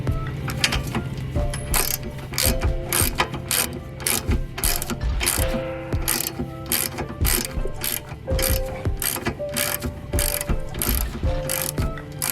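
A ratchet tightens the rear shock nut on a 2006 Acura MDX, its rapid clicking strokes coming in steady bursts close up, loud and mechanical with brief pauses between runs.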